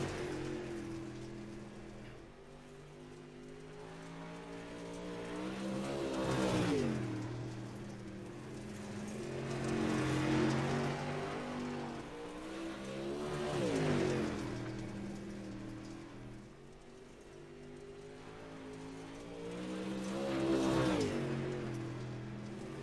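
Sim racing cars in the Bolt Racing League's J&B Modified Touring Series at Lanier: a steady engine drone with tonal harmonics that swells and fades in repeated waves as cars pass, all heard without talk.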